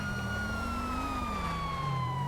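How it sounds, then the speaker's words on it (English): A police car siren in the GTA 5 video game wails steadily and loudly under engine rumble, its tone sliding slightly over a brief stretch. "He is not stopping for the siren."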